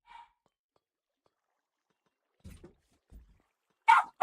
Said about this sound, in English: sorry about the dogs barking